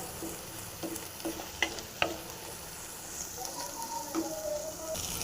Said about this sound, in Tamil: நல்லா ஃப்ரை ஆகட்டும் நல்லா வதங்கணும்